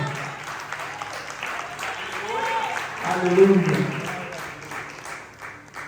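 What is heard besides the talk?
church congregation applauding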